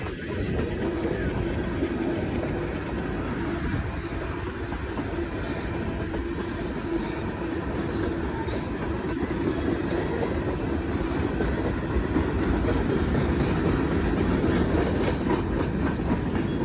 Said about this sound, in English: CSX M367 showed up, with a couple of CSX Gevos leading the way